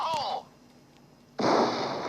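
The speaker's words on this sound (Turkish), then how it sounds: "Of çok kötü patladı." A game explosion in the online shooter Counter-Strike hits with a loud, sudden noisy blast that sustains briefly after a short quiet gap, preceded by a faint chirpy effect.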